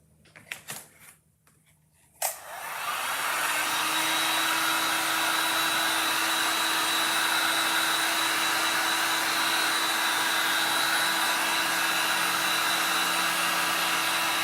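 A hair dryer blows on fresh paint on a gold leaf ornament, switched on after a few soft clicks and taps, then a steady loud close whoosh with a constant motor whine that runs unbroken to the end.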